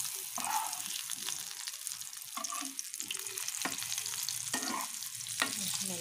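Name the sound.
boiled potatoes frying in oil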